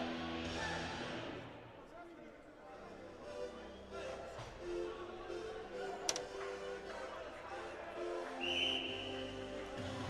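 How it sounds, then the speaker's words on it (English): A referee's whistle shrills briefly near the end of a men's ice hockey match between GBU and IAS, rising over steady crowd chatter and ongoing commentary. "The whistle's blowing."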